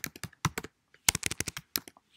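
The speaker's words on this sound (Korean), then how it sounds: "오늘 타이핑 잘안 되네." Typing on a computer keyboard, with quick clusters of crisp key clicks, then a pause, then more bursts, close and clear with no voices.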